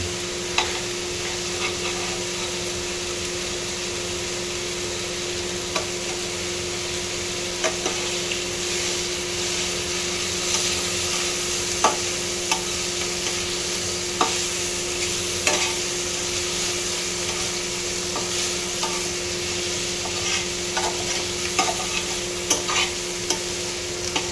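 Butter melts and mushrooms fry in a pan, giving a steady close sizzle throughout with occasional soft scrapes of stirring.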